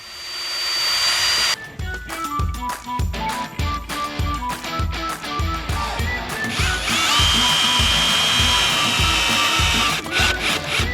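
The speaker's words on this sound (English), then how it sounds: "I'm going to pre-drill the holes before screwing it in so it doesn't split." A power drill bores pilot holes into an old redwood 2x6, with a high whine that starts and then chatters in rapid bursts as the bit bites, close and loud with no talk.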